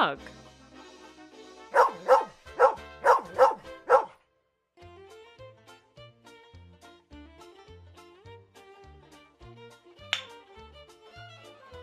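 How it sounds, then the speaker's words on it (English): A dog barks six times in a quick burst, close and loud, then light music continues with one more faint yelp later. "Dog."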